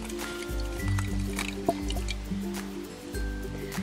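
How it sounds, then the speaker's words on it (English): Blue-colored water is poured into a jar during a kids' science-kit rainbow experiment, giving soft gurgling and dripping sounds over a low steady hum, with no talking. "And now let's pour it in."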